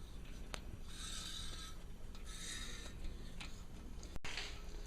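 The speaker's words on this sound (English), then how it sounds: "If you listen, you can hear it cutting." An old Harbor Freight tap, about ten years old, cutting threads: faint, close rasping strokes in short repeated bursts against a quiet background.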